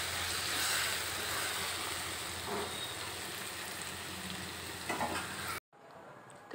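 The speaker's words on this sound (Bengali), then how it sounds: "ততক্ষণ আমি পেঁয়াজ, টমেটো আর ক্যাপসিকাম এটাকে ভাজতেই থাকবো" Onion, tomato and capsicum fry in a pan for a chicken dish, giving a steady close sizzle with stirring scrapes that cuts off abruptly near the end.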